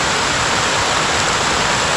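A waterfall at a campsite along a long-distance mountain trail, a steady, loud, close broadband rush of falling clear water that stays constant throughout, with no voices.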